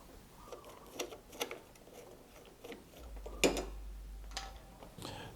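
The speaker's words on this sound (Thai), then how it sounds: "ตอนนี้ผมเอามือหมุนดูนะครับว่าเพลา ฝืดหรือเปล่านะครับ" An electric fan shaft is turned by hand during a repair for slow fan speed, giving soft, scattered mechanical clicks and rattles close by, with a brief low hum partway through.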